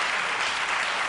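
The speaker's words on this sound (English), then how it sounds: "The third applause." Sustained, even applause from a late-night talk show studio audience runs throughout, a dense continuous roar of many hands with no voice on top.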